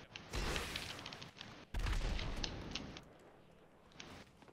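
Gunfire in a video game from a Rocket Voltic challenge: two loud bursts of rapid shots and blasts, each trailing off, with scattered quieter shots afterward.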